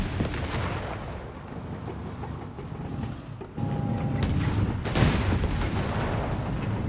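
A structural artillery barrage in Company of Heroes 3, a DAK versus UKF match, rumbling as continuous booming impacts with a louder blast about two-thirds through, with little talk over it.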